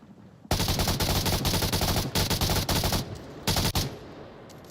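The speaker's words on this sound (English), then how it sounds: "Shots onto Kiwi's location." Rapid bursts of automatic gunfire rattle through a VR shooter match, dense and loud, stopping briefly and then resuming in shorter volleys before fading to quiet.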